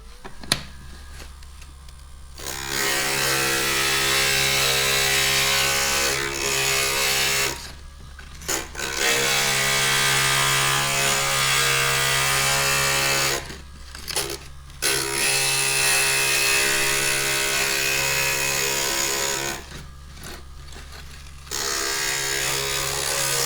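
A stained glass grinder whirs loudly as the rounded edges of glass pieces are ground, running in long steady stretches broken by brief pauses, close up with no talking.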